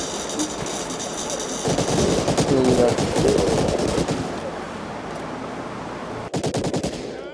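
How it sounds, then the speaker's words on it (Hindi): Rapid bursts of automatic gunfire rattle close by in Medal of Honor: Allied Assault, dense and continuous, stopping briefly before a final sharp burst. "पीछे से गोलियां"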